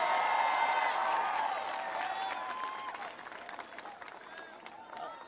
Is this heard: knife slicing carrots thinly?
no